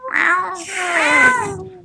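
A person imitates a cat, drawing out a couple of whiny meows in quick succession, close and clear.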